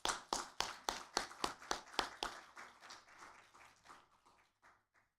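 A church congregation at a Sunday worship service in Calgary breaks into applause, starting with strong, rhythmic unison claps that gradually soften and thin out into scattered, fading claps.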